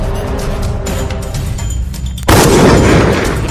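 Gunfire in the PUBG video game: a low ambient rumble, then a sudden loud broadband blast of shots at close range that holds to the end.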